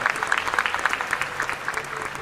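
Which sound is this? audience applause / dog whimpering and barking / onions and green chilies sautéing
audience applause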